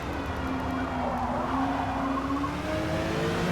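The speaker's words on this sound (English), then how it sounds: "Jacob just behind this GT car. I hear him in my right ear." Prototype and GT race car engines whine continuously at a distance during a 6 Hours of Atlanta endurance race, pitch slowly rising and falling as cars pass, with a steady roar underneath.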